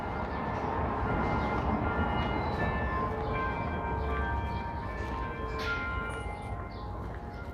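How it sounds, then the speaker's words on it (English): Several bells ring continuously in Astoria, Queens, New York City, their overlapping tones sustained over a dense, steady background roar. "Those bells go on for a while."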